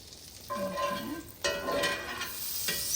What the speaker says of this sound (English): So the butter toasts really quickly, so be careful not to burn it.